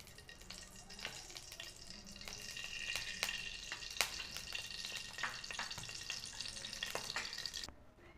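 Whole garam masala, cinnamon, green cardamom and star anise, crackles and sizzles in hot white oil and ghee in a kadai, with sharp pops over a steady frying hiss that stops abruptly near the end.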